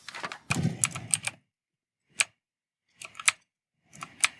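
PICTEK budget mechanical keyboard being typed on, crisp clacky keystrokes in a quick cluster, then isolated single presses and short pairs spaced apart, close and clear with no talking.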